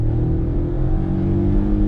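A Maruti Suzuki Swift or Hyundai Venue Turbo DCT pulls hard in first gear at the start of a drag race, a steady, loud engine drone with strong low harmonics held without a break for about two seconds.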